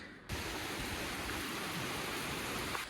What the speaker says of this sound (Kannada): ಜೋರಾಗಿ ಮಳೆ ಬರ್ತಾ ಇದೆ